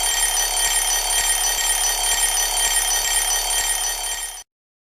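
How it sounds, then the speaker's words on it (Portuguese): An alarm clock rings continuously in a fast, even metallic trill, loud and close, for about four seconds before stopping abruptly. "O despertador tem um som"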